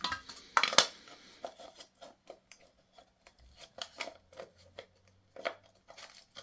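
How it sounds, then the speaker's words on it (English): Scissors cut paper close by for a valentine craft, with a few crisp snips at first and then a run of lighter, irregular snips and paper rustles, with no talk. "I'm going to cut it like this"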